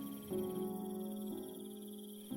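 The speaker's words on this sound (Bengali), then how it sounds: "ঝিঁঝি ছাড়া আর কোনো শব্দ নেই।" Crickets chirp steadily at night in a rural haunted-village setting beside a bamboo fence and fireflies over bushes, a soft continuous trilling that holds evenly throughout with no voices.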